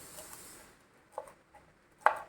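A knife slices through washed red capsicum into diamond pieces, giving a few separate, fairly close cuts with quiet pauses between them and the sharpest stroke near the end, with no talking.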